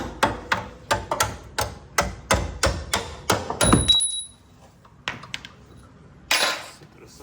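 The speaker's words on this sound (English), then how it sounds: "I'm gonna just stick a screwdriver or a flathead to the other side just to hit the bolt out" A screwdriver hammered against a stuck bolt during a Honda Civic manual transmission swap, giving a fast run of sharp metallic strikes up close. After a pause come a few scattered clinks and scrapes of metal.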